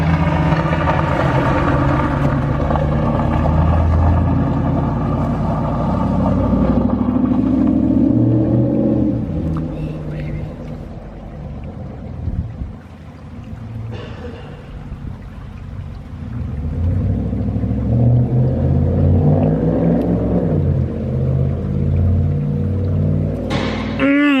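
A 2012 Duramax diesel pickup truck pulls away, its deep engine rumble steady and loud at first, then fading as it drives off, with a brief quiet dip before the low drone returns.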